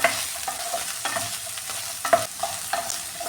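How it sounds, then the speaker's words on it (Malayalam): Okra (lady's finger) sautéed in a pan for a masala curry, stirred with a utensil: steady soft sizzle with repeated scraping strokes at an irregular rhythm, close and moderately loud, no talking. "വെണ്ടയ്ക്ക ഇതിലേക്ക് ഇട്ട് കൊടുത്തിട്ടുണ്ട് ഇത് നല്ല ഡീപ് ഫ്രൈ ഒന്നും ആവണ്ട നന്നായിട്ടൊന്ന് വഴട്ടിയെടുത്താൽ മതി"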